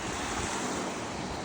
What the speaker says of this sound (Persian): همین الان اومدیم ساحل محمود آباد